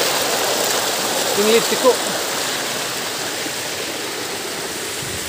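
Tim Langpong waterfall at Longnit in Karbi Anglong pours in a steady, broad wash of rushing water that fills the whole stretch, with a brief voice breaking through near the start.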